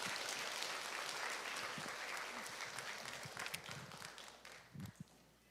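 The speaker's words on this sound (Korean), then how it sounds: "수고해주신 강사님께 한 번 더 박수 부탁드리겠습니다." An audience at a parent training session gives the lecturer a sustained round of applause, a dense wash of many hands clapping that slowly thins and fades to a few last claps.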